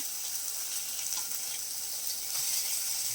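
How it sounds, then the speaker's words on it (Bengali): Pieces of churi fish frying in a pan of hot oil for a sour curry, a steady close hiss and sizzle throughout with no voices. "দেখো মাছটা ভাজবে একটু সময় লাগছে"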